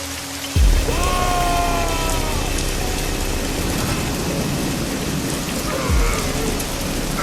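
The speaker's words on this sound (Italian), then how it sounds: "una pioggia sporca, fatta di acqua putrida, grandine e neve mista a fango, che cade senza tregua" Heavy, relentless rain pours down as a dense wash, with thunder rumbling in after a sharp crack and again near the end, while a low tonal drone sits beneath.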